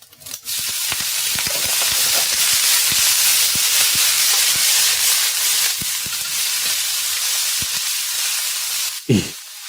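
Food sizzles and hisses steadily in a home kitchen late at night, with faint scraping and tapping from stirring, ending in a sudden thump.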